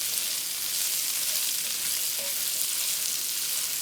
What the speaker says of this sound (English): Here it's sizzling. That's the sound we want.